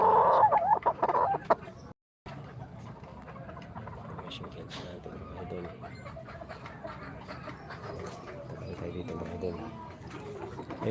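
Chickens cluck and chatter in the background while someone talks over them at length, with a brief gap of silence early on.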